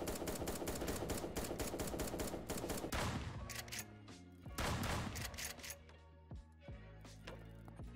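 Gunshots in a browser shooter video game: a fast run of sharp, evenly spaced shots, then scattered single shots and short bursts, fairly quiet and close, with a faint voice underneath.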